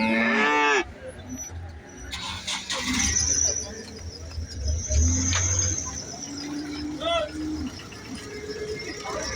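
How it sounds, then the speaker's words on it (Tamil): At an outdoor cow market in Valliyoor, Tirunelveli, native bulls and cattle moo loudly at close range, with voices in the background and birds cooing. "நாட்டு காளை. பெரிய காளை."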